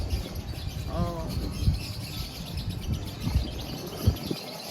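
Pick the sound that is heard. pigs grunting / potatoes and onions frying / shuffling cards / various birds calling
various birds calling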